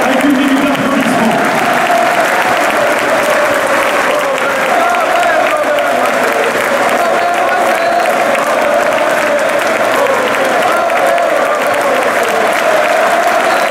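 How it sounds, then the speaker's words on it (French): A loud, sustained round of applause from a crowd, offered as a minute-long tribute, rolls on steadily with faint voices mixed in beneath the clapping. "Je vous invite à vous laisser avec moi avec une minute d'applaudissement."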